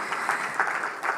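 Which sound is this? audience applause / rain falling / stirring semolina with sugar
audience applause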